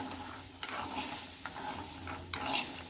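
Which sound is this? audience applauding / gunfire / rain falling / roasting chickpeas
roasting chickpeas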